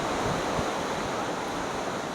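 Water rushes steadily at a family park in Mansehra district, a dense, even roar of flowing water heard close and alone.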